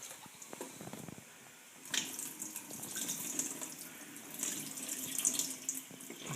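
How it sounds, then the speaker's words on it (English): Tap water runs into a sink as lentils are rinsed, a soft splashing stream that grows fuller and brighter partway through, fairly quiet and close. "I'm going to just give the lentils a bit of a wash, just to get any sort of dirt, dust off that"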